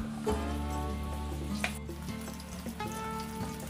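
Oil and butter heating together in a pan as a gravy base give off a steady sizzle over a low hum, close and continuous, with no talking.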